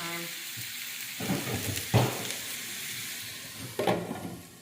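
Ground turkey cooking in a pan coated with nonstick spray, a steady close sizzle broken by a few louder bursts as the meat is stirred or moved.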